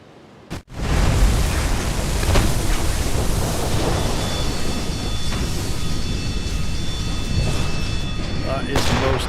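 Torpedo strike in a World War II era submarine game, a sharp onset followed by a long, loud, rumbling roar of broadband noise that slowly fades.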